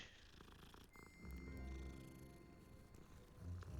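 A cat in Hogwarts Legacy purrs softly and steadily while the in-game background music plays over it. The purr is quiet and low, with a few brighter chimes layered on top.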